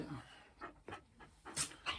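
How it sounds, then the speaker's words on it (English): A dog pants in short, soft bursts, close by but faint, with a few breathy huffs spaced unevenly. "And my dog Lily, which is getting fur all over me"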